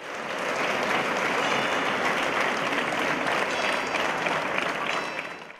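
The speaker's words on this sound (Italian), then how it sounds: "per poi arrivare in Piazza dei Signori e terminare con un lungo applauso." A crowd in a city square gives sustained applause at the close of a silent march against violence toward women, a dense wash of clapping that swells in and holds steady before tapering off.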